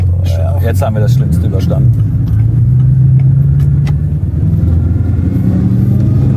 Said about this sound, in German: Ich ziehe jetzt einfach kurz einen Drift.